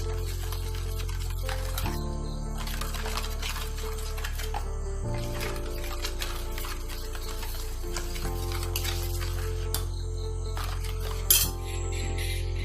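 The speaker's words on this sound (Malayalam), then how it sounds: "ഇടയ്ക്കിടയ്ക്ക് ഇങ്ങനെ ഇളക്കി കൊടുക്കണം, അല്ലെങ്കിൽ ഇത് അടിയിൽ പിടിക്കും." A thick beetroot bread pudding mixture with vanilla essence is stirred in a pan over a medium flame, giving steady scraping and soft bubbling over a low constant hum, with a sharper clink near the end.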